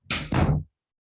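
Indoor door swung shut in a home, a quick two-part closing sound of a brief thud followed by a fuller latch and clunk, close and moderately loud, then silence.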